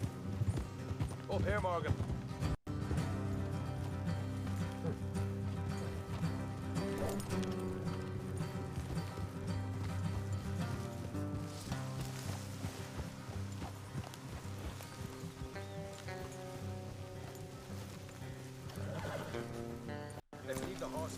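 Horses' hooves clip-clop steadily on a road in the video game Red Dead Redemption 2, a continuous rhythmic gait under music and game ambience, with a character speaking briefly.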